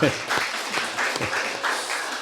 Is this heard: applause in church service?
yes